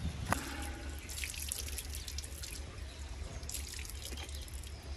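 Water gushes steadily from a village hand pump, a continuous close splashing stream with occasional drips and small surges, with no voices.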